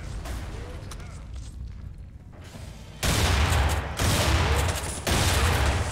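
Gunfire erupts in the video game Underhell in heavy bursts that hit abruptly and loudly at roughly one-second intervals in the second half, after a quieter stretch, with a voice talking at times.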